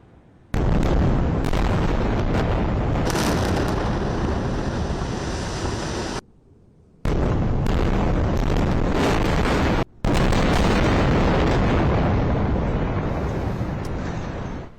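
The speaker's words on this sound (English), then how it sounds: "the Strip getting hammered with Israeli artillery" Heavy artillery shelling across the Gaza Strip under siege: a loud, sustained roar of booming blasts and rumble filling the air, broken by two brief drops before the thunderous barrage resumes.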